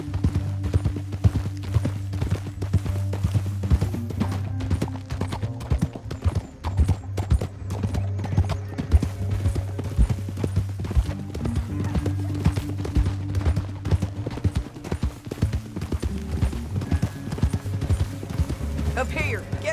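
Horses gallop across a canyon in the video game Red Dead Redemption 2, a dense, continuous clatter of hooves with occasional whinnies, under music and voices talking.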